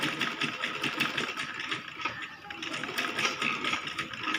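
A sewing machine stitches pleats into a child's lehenga skirt. It runs steadily up close with a fast, even mechanical whir and needle chatter, with no speech over it.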